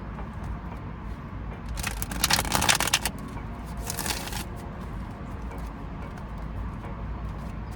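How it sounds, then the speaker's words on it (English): Tarot cards shuffled by hand during a pick-a-card reading: two short, crisp riffling bursts close up, the first longer than the second, with quiet room tone between and no speech. "Let me shuffle them again."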